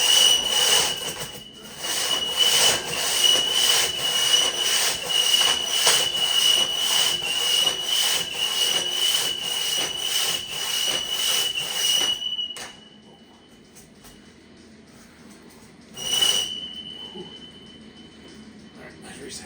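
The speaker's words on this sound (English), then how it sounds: "For me, that was the first single butt cut on a log" A single buck crosscut saw rips through a log in rapid, steady strokes for about twelve seconds. It then falls quiet, apart from one brief stroke later on.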